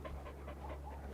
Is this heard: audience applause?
no